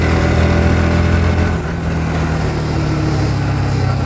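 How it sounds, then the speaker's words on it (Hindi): Bajaj Pulsar NS 125 motorcycle cruising on a highway, its engine humming steadily under constant wind rush, close and fairly loud with no talk. "जैसे कि आप देख ही सकते हैं मैं हाईवे पर राइड कर रहा हूँ इस बाइक को।"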